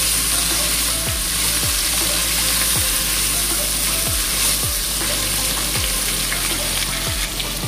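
Turmeric and Kashmiri chili powder frying in oil in a pan, a loud steady sizzle close up, with repeated scraping strokes of stirring at a regular pace.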